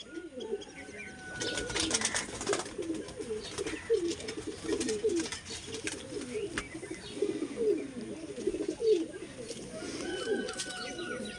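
A big-sized pair of Kalasabuj pigeons, male and female, coo in a steady repeating series up close, with soft throaty pulses and faint chirps from other birds behind them.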